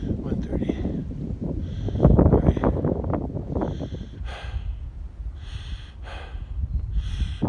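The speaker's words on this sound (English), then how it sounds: "the wind is pretty strong from the south" Strong south wind at a barn on a cold, overcast day: steady low rumbling buffets against the microphone, with close breathing and sniffing noises over it.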